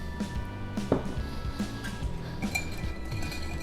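A spoon mixing roasted garlic, salt and pepper in a bowl, with light repeated clinks and taps against the dish over a low background hum.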